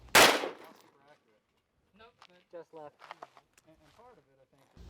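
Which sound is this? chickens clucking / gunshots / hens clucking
gunshots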